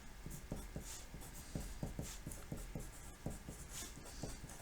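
A marker or chalk scratches across a classroom board while a vector is written out in a trigonometry lesson, quick faint strokes in an uneven rhythm with no talking.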